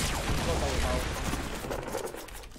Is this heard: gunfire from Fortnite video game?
yes